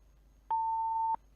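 A single steady electronic phone tone during a radio call-in sounds clearly for about half a second, with faint line hiss before and after.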